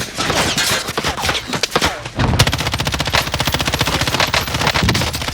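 Rapid automatic gunfire from an assault rifle in the Call of Duty Warzone video game, loud and close, with a burst of mixed shots followed by a sustained, evenly paced stream of rounds.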